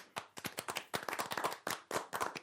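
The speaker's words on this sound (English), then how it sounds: "Let's clap for that." A few people clap together on a podcast set, a quick uneven run of sharp hand claps close by, with no talk over it.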